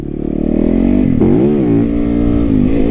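A supermoto motorcycle engine revving loudly up close, a strong buzzing drone that rises and falls in pitch with throttle blips, heard alone without talking.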